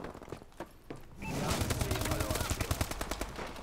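AK rifle fire in the Call of Duty Advanced Warfare multiplayer game: a few separate shots, then sustained rapid automatic bursts that grow louder and denser, with quieter game noise underneath.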